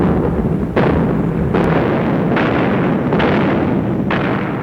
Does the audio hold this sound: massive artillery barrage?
yes